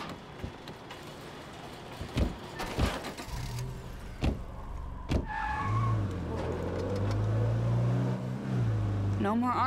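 Car driven in State of Decay 2, engine rising from a low hum to a steady drone with sharp clunks and knocks early on, voices under it.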